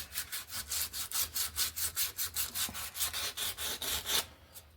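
Rhythmic back-and-forth abrasive strokes on a deer antler knife handle during smoothing, about twenty even passes at a steady pace, close and clear with no talking, ending abruptly.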